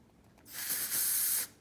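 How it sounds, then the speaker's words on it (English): Banana Boat continuous-spray sunscreen hisses from the can in one steady, close burst lasting about a second, starting and stopping sharply, with nothing else heard. "I'm gonna spray this continuous spray effect that they were talking about"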